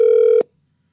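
A single loud burst of a telephone line ringing on a call to a toll-free number: a steady electronic tone that cuts off abruptly after under half a second, followed by silence.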